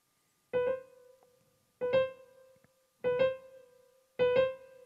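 A piano plays a quick B grace note into a short accented C, repeated four times with even pauses between, clean and close.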